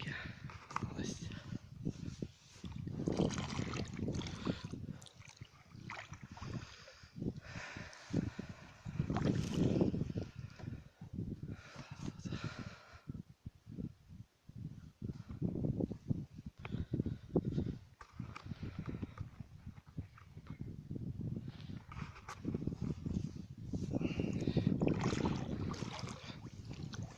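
A wooden flat-bottom boat is rowed on cold spring water with late snow around, giving soft splashes and knocks of the oar under light wind, while someone talks intermittently.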